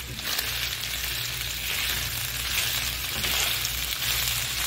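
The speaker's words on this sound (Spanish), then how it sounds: "ya está frito aquí las fajitas de pollo. Ya integramos aquí la cebolla y movemos bien todo" Chicken fajita strips and onion sizzle steadily in a hot pan while being stirred, a continuous close crackle with soft scraping movements.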